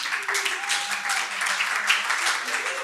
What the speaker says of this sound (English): You'd love your applauses, don't you?